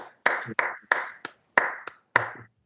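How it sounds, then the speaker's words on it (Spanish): Sparse, close handclaps, about seven distinct sharp claps in an uneven rhythm with silent gaps between, suggesting one or a few people clapping for a webinar speaker rather than a full crowd. "Un aplauso."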